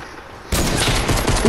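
Dense, loud burst of gunfire in the Fortnite video game, a rapid fusillade of shots that kicks in abruptly after a quiet moment and continues steadily with no talk over it.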